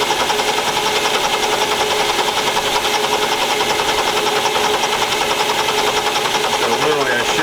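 A metal lathe takes a cutting pass during a tool post upgrade, a steady loud mechanical whir with rhythmic chatter throughout and a voice talking over it.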